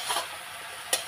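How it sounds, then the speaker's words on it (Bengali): Vegetables with steamed cauliflower stems, potatoes and brinjal stir-fry in a pan, a soft hiss with a few scraping stirs and a sharp clink near the end, close up and without speech. "নাড়তে হবে এবং একটু ভাজা ভাজা করতে হবে।"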